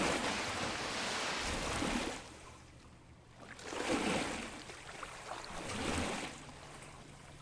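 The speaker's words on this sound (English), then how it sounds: "I heard someone else splashing" Water splashing and sloshing in a pool maze in the Pools demo video game, steady and fairly loud, easing off in the middle before swelling again in broad surges.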